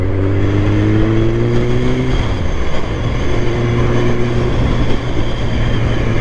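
A Kawasaki Ninja ZX9R motorcycle accelerates along a Fife coast road, engine tone climbing steadily close to the microphone, dropping briefly as it shifts, then rising again under loud, continuous wind rush.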